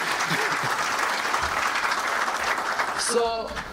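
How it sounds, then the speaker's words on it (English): Loud, continuous applause from an audience at a lecture fills the room, with a voice briefly rising over the clapping near the end. "let's give him a big round of applause"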